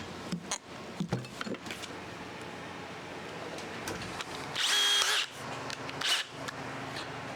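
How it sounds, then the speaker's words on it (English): A power drill whirs in a short burst of a second or so among handling clatter and taps during work on a car's fuel system, close and moderately loud, with a brief second whir soon after. "And now we need to take the drill."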